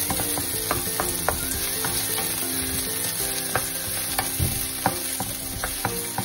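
Shrimp being stir-fried with wild garlic in a home pan, a steady close sizzle under repeated scraping and clacking of a utensil against the pan in an uneven rhythm.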